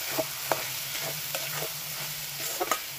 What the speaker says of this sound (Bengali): এইবার এটা কষানোর পালা, সমানে নাড়তে হবে